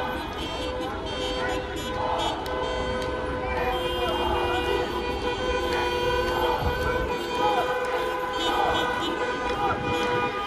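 A bus edges past a street protest blocking a road on Khreshchatyk in Kyiv, with sustained horn tooting and crowd noise forming a loud, continuous wash under which people talk.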